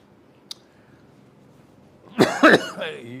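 A short cluster of harsh coughs bursts out near the end, close and loud after a quiet stretch with one faint click.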